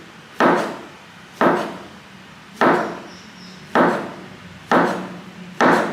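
A knife chops pineapple on a wooden cutting board for a marinade, six sharp, evenly spaced strokes about a second apart, close and loud with no talking.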